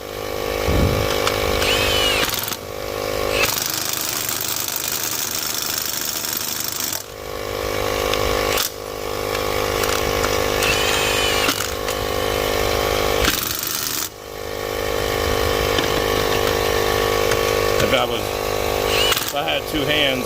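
An impact wrench on setting two tightens wheel lug nuts in a cross pattern, sounding as several loud, sustained buzzing bursts separated by brief pauses, close up.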